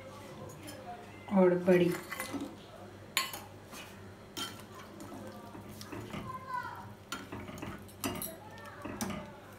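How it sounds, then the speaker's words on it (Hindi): Pabda fish dropped into a pot of boiled potatoes on a gas stove, giving a loud burst of metallic clinks and clatter early on, followed by quieter pot knocks and faint sizzling while someone talks. "आलू बॉयल हो चुका है और अब मैं इसमें डालूंगी फिश को"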